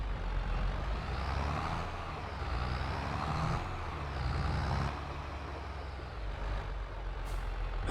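A tractor in Farming Simulator 22 drones steadily at close range, a loud low engine rumble with some mechanical hiss that rises and falls slightly throughout, with no talking.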